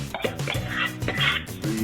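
Chickpeas tumbling into a hot cooking pan for a vegetarian Mediterranean dinner, a short burst of clattering and rattling against the metal with light sizzling underneath, close and fairly loud.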